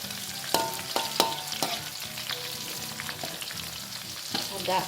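Shallots and chilies sizzling in hot oil for sambal, a dense crackling fry with repeated spatula scrapes and taps against the pan, close and steady.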